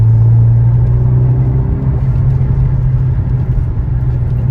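A Renault Megane RS driving, its muffled engine giving a steady low hum and rumble under a constant blower-like whoosh, heard from inside the car without talk.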